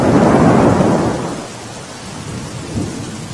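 Heavy rain pours during a thunderstorm in Mehsana, Gujarat. A loud, deep thunder rumble rolls over steady rainfall and then fades, leaving the rain hissing alone.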